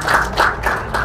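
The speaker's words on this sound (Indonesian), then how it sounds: "Tepuk tangan dulu boleh?" An audience at an Eid gathering claps in short, loud rhythmic bursts, roughly four pulses in quick succession, close and clear.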